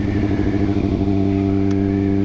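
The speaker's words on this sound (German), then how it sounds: "Er fährt halt einen Ferrari" A Ferrari sports car's engine drones loud and close as it drives past, a steady, strongly tonal growl that holds fairly constant pitch with a slight shift partway through; no one speaks.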